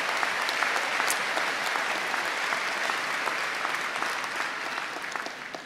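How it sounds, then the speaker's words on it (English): A large convocation audience at a university spring ceremony applauds, a dense, even roar of many hands clapping at close range that holds steady for several seconds before easing slightly. "So give a big round of applause to the fact that we're #1 when it comes to quality of life in"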